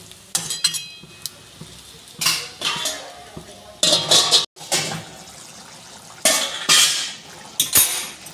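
A lid clanks down onto a metal pot of boiling potatoes in a home kitchen, with a few separate bursts of clinking and clattering metal and utensils, close and fairly loud, and no talking.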